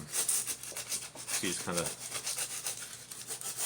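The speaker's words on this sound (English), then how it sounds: "make sure you're sanding in all the sides" Sandpaper rubbed inside a bamboo tube while making a Native American style flute, soft repeated scratchy strokes close by, with someone talking briefly over them.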